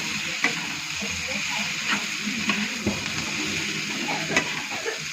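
Food sizzles steadily in a hot pan while a utensil stirs it, scraping and clinking against the metal at irregular intervals, as coriander leaves are mixed in.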